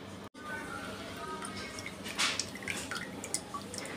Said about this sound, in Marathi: मी ही पाणी पूर्ण काढत आहे